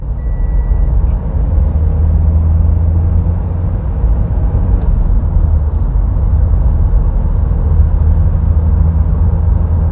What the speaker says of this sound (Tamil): இப்போ நான் 4th கியரில் இருக்கிறேன், எடுக்கிறேன் பாருங்கள்